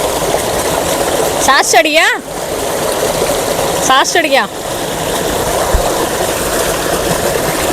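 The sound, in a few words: water splashing as wrestlers bathe in a field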